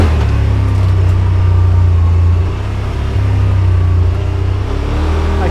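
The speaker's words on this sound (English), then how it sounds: "If I press the gas, there's really no delay in engine power output." The engine of a 2021 Yamaha Wolverine RMAX2 1000 Limited Edition side-by-side gives a loud, close, steady drone under throttle, easing briefly midway before pulling again.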